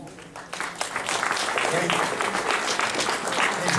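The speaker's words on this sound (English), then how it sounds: "would you please stand up so we can give you a round of applause?" Audience applause for people standing after in-person interviews, building from a quiet start into steady clapping that continues under a brief spoken word.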